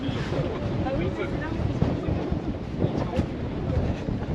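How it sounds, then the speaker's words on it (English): Cold wind rushes across the Empire State Building observation deck, a steady, close, blustery roar buffeting the microphone throughout with no clear pauses. "As soon as you go around that corner, the wind just comes straight through."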